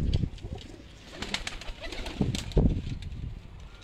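Pigeons coo nearby in soft, throaty bursts, with occasional rustles and wing flutters between the calls.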